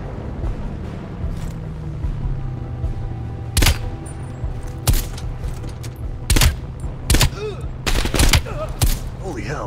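Gunfire in the video game Call of Duty: Black Ops Cold War, with loud, sharp shots in irregular bursts over a rumbling ambient background and faint voices.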